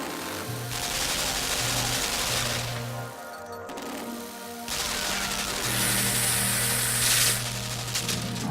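Rapid machine-gun fire from the side-scrolling game Limbo, steady mechanical bursts with repeating low tones beneath, fairly loud with a brief pause midway and no talk over it.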